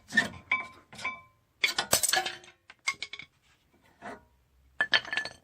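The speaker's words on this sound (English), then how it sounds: "Take your brake pads out." Metal brake pads are taken out and handled, giving scattered light metallic clinks and rattles in short bursts with brief pauses between, close by and fairly quiet, with no talk.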